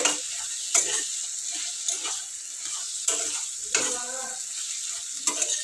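Tomato curry frying in a pan, stirred with a spoon: a steady close sizzle broken by sharp scraping strokes and clinks against the pan at irregular intervals, no voices.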